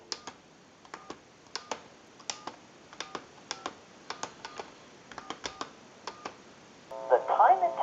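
Dialing out on a Western Electric French-style desk telephone: a run of sharp, evenly spaced clicks and tones from the handset line, followed by a louder burst as the call connects.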